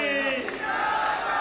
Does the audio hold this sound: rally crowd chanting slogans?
yes